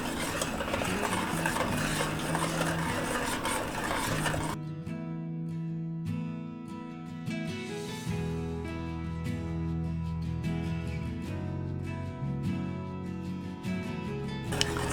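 Rose hip fruit curd is stirred in a pot over low heat: a dense scraping rustle at first, then sparse metallic spoon clinks and taps against the pot over a quieter background, with no voices.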